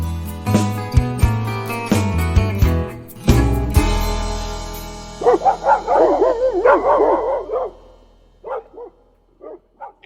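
A dog barks and yips in short bursts after a stretch of music, the barks fairly close and separated by brief pauses.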